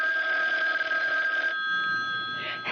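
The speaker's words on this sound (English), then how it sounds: "Oh, that's the phone, Parker." An old-fashioned telephone bell rings steadily and fairly loud in a 1970s drama, then its tone thins out toward the end.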